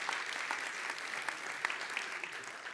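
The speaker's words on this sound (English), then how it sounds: "Would y'all give these two men a great round of applause?" An audience gives a steady round of applause, dense clapping of many hands held at an even level throughout, fairly distant and with no talk over it.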